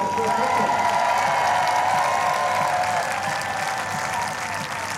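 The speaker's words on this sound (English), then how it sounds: "Another round of applause, please, for the victorious archer." A packed archery venue applauds a winning archer with loud, sustained clapping and a few cheers that fade slightly toward the end.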